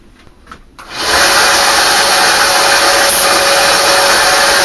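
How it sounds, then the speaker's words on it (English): A kukri blade is pressed to a belt grinder, a loud, close, steady abrasive hiss and whine that starts abruptly after a quiet second and holds unbroken to the end. "you're putting a Kukri to a belt grinder"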